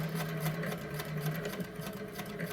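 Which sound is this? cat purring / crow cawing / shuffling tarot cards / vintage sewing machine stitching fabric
vintage sewing machine stitching fabric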